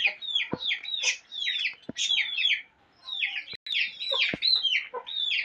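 Several chickens cluck and squawk in a busy, overlapping chorus, close by, with a few sharp calls standing out.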